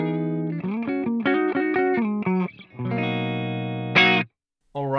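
Clean electric tone from a PRS McCarty guitar on its middle pickup, played through a Fractal FM3 USA clean amp model: close, steady chords and picked notes, then a long sustained chord, a short bright strum, a brief silence and one last note.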